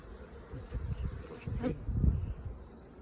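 Honeybees buzz steadily at close range at a Flow Hive, a low droning hum that swells and dips with no voices present.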